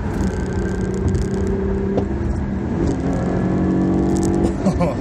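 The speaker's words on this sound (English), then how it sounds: "Let's do a little downshift." Engine note of a 2012 Acura TL SH-AWD with a manual gearbox, heard from inside while driving, holding a steady drone with a rise in revs near the end during a downshift, loud and continuous.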